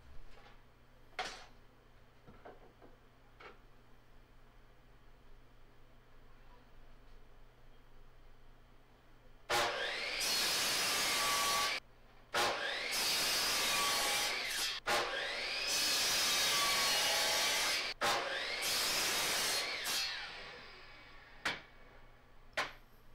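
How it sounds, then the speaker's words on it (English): A miter saw set up with a stop block cuts repeated wood pieces to even lengths. After a quiet stretch with light handling knocks, four loud roaring cuts follow in quick succession, each spinning down between passes. "I'm using a stop block here to set up a repetitive cutting station at my miter saw"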